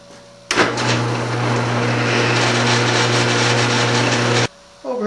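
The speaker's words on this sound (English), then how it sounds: "I've got the blank over here at the drill press. I'm going to go ahead and drill all my interior holes" A drill press bores interior holes through a wooden bowl blank, starting abruptly and holding a loud, steady whining hum with a grinding cut for about four seconds before stopping, close and alone.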